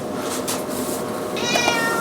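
Snowflake, a small black and white cat, meows repeatedly indoors, the cries rising near the end over steady kitchen background noise.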